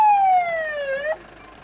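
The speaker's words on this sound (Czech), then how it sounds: "A už nám přijíždí hasiči z Crhova" A fire engine siren wails as volunteer firefighters from Crhov arrive at a demonstration, one clear descending tone sweeping down and then cutting off abruptly, loud and close with nothing else over it.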